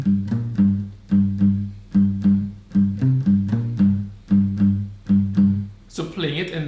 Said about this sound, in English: So if I was to do that again with palm muting